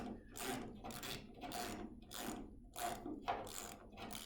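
A Heli-Coil tool threads an insert into an aluminum spark plug hole, giving about eight evenly spaced ratcheting clicks, close and fairly quiet, with no talking.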